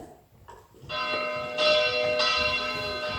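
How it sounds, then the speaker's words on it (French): Church bells ring out in overlapping tolls, their bright metallic tones swelling and sustaining at a moderate distance with no voices. "Pourquoi les cloches sonnent-elles?"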